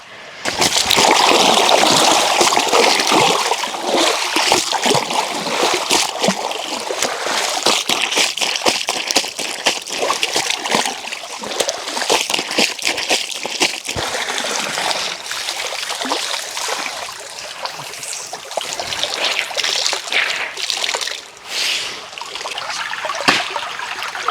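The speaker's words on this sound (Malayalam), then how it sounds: "ഒരുപാട് നാൾക്ക് ശേഷം തോട് ശരിക്കും കാണിക്കുന്നത് ഇപ്പോൾ തോട്ടിൽ വെള്ളമായിട്ടുണ്ട്" A stream in Attappady, newly filled with water, flows with a steady, close trickling and splashing rush that stays dense and continuous throughout, with no voices.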